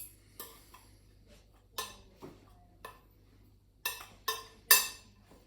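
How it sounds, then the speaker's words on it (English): Mustard powder stirred into cheese scone mixture in a bowl, a series of sharp spoon clinks and scrapes against the bowl in an irregular rhythm, close and clear with no talking. "half a teaspoon of mustard powder. About that much. Give that a stir around"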